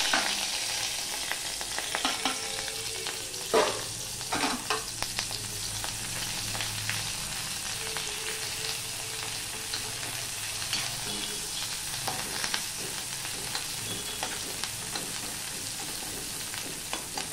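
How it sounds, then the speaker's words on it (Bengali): Chopped onion and two green chilies frying in hot oil, a continuous close sizzle with scattered stirring scrapes and knocks against the pan. "এবার এই তেলের মধ্যে আমি একটুখানি ছোট একটা পেঁয়াজ আর দুটো কাঁচা লঙ্কা চেলা করে নিয়েছি, সেটা দিয়ে দিলাম।"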